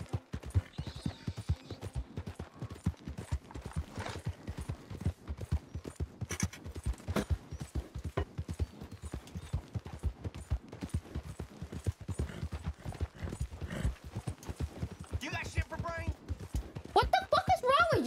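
A horse gallops in the Red Dead Redemption 2 video game, its hoofbeats a steady rhythmic clip-clop, moderately loud, with a few sharper game sounds breaking in near the end.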